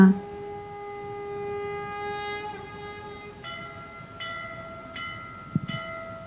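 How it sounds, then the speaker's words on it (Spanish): A long, steady conch shell drone holds several layered tones, shifting pitch partway through, with a soft bell strike near the end. "The sound of conch and bell"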